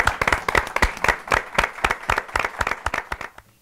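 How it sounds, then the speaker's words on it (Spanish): Applause from an audience in Chontla, Veracruz, greeting the performers before their music, made of distinct uneven claps from a modest crowd that thin out and stop near the end. "Un aplauso para ellas."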